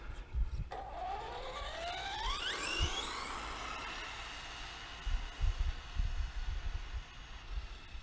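A Traxxas Slash 4x4 RC car on a battery speed test: the electric motor's whine climbs steeply in pitch as it accelerates away, then fades, with scattered low thumps and bumps from the ground.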